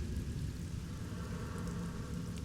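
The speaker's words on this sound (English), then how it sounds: "you're in a rainstorm out of nowhere in the desert" Steady, dense rain pours down in a sudden desert rainstorm, a continuous low wash of drops with faint distant rumble, constant in level and without voices.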